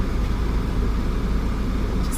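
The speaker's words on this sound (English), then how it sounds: "If you can hear the aircon, I do apologise" A car's air conditioning runs as a steady, broad low rumble and whoosh inside the cabin, constant and fairly loud, with no talk.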